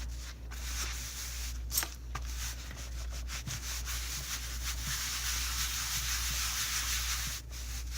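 Fabric cut from a vintage pillow cover is rubbed down firmly onto a glued junk journal cover, producing a steady, close scratchy rubbing that continues for several seconds with a low hum underneath.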